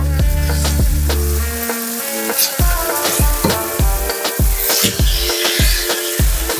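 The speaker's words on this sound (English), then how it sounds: "we're gonna let it cook on this side for 5 to 7 minutes until it's brown" Ground turkey sizzles loudly in a skillet for homemade skillet lasagna, a continuous close frying hiss broken by repeated sharp taps and scrapes against the pan.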